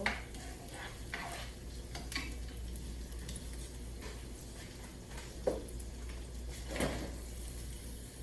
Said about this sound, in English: So just go ahead and saute these until they're a little brown and tender